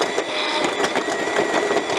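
An EGO PHA7400 battery power cutter on speed 2 cuts a hole in stone, giving a loud, close, busy motor whine broken by quick rhythmic rattling pulses throughout.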